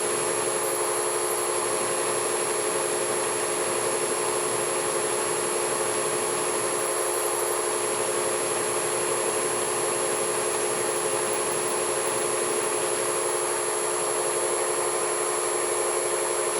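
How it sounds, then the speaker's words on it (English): A drill bit bores steadily through an aluminum Chevy inline-six cylinder head, lubricated with LPS No. 2 while a lump kit is installed in a head shop, giving a continuous, even, high-pitched grinding whine with no talk. "It helps keep the drill bit from galling as it's going through the aluminum."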